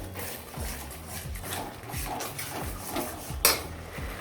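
Baby corn being mixed with a corn flour coating in a bowl for Manchurian, a steady series of scraping, clinking strokes against the bowl, close and fairly quiet, with a sharper clink near the end.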